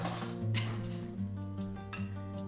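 A spoon stirring chocolate chips in a cup of hot water makes light, close clinks and scrapes against the cup over a faint tonal hum.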